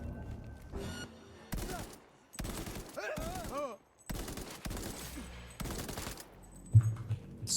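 Bursts of gunfire trade back and forth in a ray-traced shooter game, several rapid volleys separated by short pauses, close and sharp, with a few faint tonal game sounds between.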